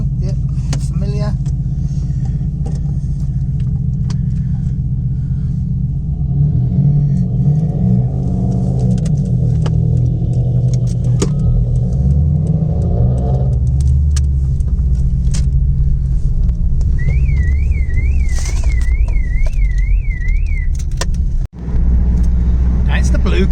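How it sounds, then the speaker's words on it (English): Red and blue cars racing produce a loud continuous engine rumble and road noise throughout, with people talking over it. "Red car and the blue car had a race."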